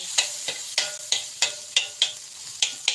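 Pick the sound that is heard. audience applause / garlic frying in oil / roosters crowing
garlic frying in oil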